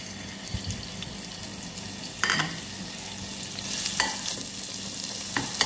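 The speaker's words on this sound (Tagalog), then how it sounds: "Tapos igisa na natin ang crushed bawang." Crushed garlic sautés in a hot pan with a steady, fairly quiet sizzle, broken by a few clinks and stirring scrapes of a utensil.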